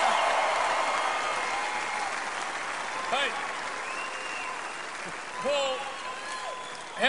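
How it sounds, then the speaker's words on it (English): A TV studio audience on an Australian football show applauds Kiss members Gene Simmons and Paul Stanley, a steady wash of clapping and cheering that fades slightly while a voice speaks over it. "Give them another round of applause."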